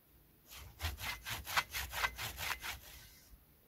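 A hand saw cuts through wood in a forest dugout in about ten steady back-and-forth strokes, close and fairly quiet, with no talking.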